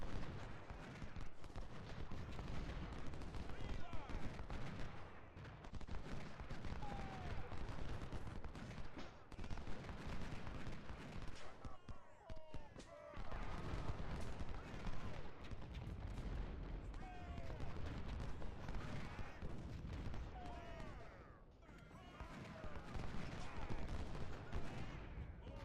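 Musket volleys crackle through a Civil War battle in Ultimate General: Civil War, as dense, continuous massed gunfire with booming shots rolling steadily underneath for the whole stretch, with faint voices now and then.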